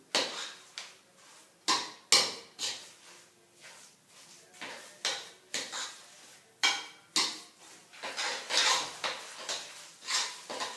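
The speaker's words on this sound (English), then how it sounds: "Now I mix it well, combine it with my other remaining carrots" Carrot cake batter with grated carrots being mixed by hand in a bowl, repeated close scraping and clattering strokes in an uneven rhythm, each stroke rising and fading, with no voices.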